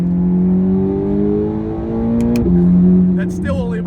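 A Corvette ZR1X accelerating at about half throttle, its engine note rising steadily and loud from inside the cabin, with a brief dip in pitch as it shifts, then a short voice and electronic chirps toward the end.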